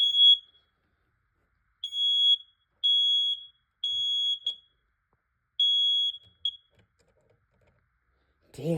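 A household smoke alarm under test sounds a piercing high electronic beep in repeated bursts of about half a second, loud and close, with short silent gaps between them and a brief voice at the very end.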